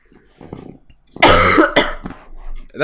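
A single sharp, loud cough bursts out, followed by a shorter second cough, with faint murmuring before it.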